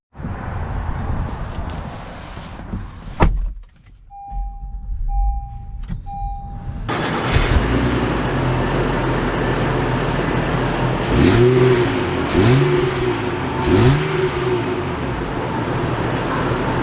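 A 2022 Honda Pilot EX-L starts off and drives away, a steady close engine hum and road rumble rising in pitch through several accelerations after a brief quiet moment with a few electronic chimes.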